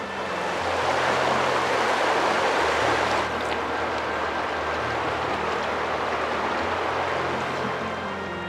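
Water of Big Creek, a stream in Arkansas, rushes and burbles steadily at moderate volume, a continuous broad wash with a faint low rumble beneath and no voices.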